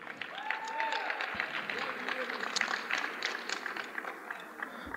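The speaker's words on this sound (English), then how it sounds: "So give them a round of applause" An audience at a high school winter sports banquet applauds, a quiet continuous patter of clapping with faint voices and a whoop or two mixed in.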